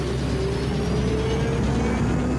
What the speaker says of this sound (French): le Concorde accélère pour atteindre 320 km/h